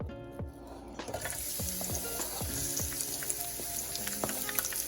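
Sliced onions dropped into hot vegetable oil in a pan on medium-high heat, bursting into a crackling sizzle after a few clunks, then frying steadily with scattered pops.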